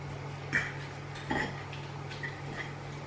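A fork works through cooked smoked haddock in a bowl, giving a few soft, scattered clinks and scrapes against the dish, quiet and close with no talking.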